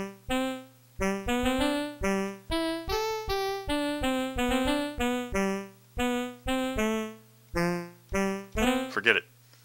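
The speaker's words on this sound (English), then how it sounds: "This, I believe, is the bad saxophone sample." A reedy saxophone sample on a Casio SK-1 keyboard plays a bouncy melody of short, detached notes over a low steady hum, ending in a brief squawk.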